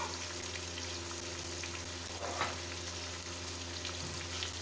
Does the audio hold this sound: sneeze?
no